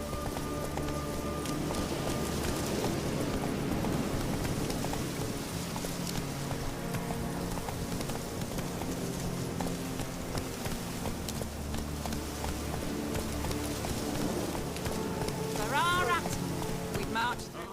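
A horse gallops in The Witcher 3, its hoofbeats a steady, dense drumming that runs the whole way through under a constant layer of ambient game sound and music, with a brief rising tone near the end.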